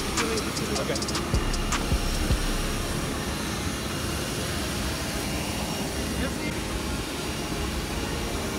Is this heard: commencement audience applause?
no